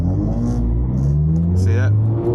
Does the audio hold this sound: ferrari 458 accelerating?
yes